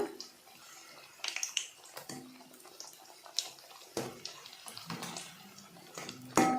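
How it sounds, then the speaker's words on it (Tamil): Wheat flour snack pieces frying in hot oil make a crackling, popping sizzle with uneven bursts, fairly close and moderate in level, swelling louder near the end. "இப்போ நம்ம எண்ணெயில் போட்டு பொறிச்சு எடுத்துக்கலாம்"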